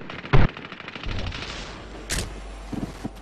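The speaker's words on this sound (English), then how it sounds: "Covering fire!" Gunfire bursts in Medal of Honor: Warfighter, with a loud close shot up front, then a sharp crack and fainter rattling shots as background battle noise continues, no talking.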